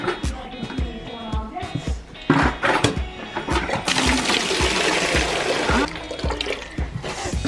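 Water gushes and splashes steadily into a container in a barn at night, a loud rushing pour with clunks and knocks over it.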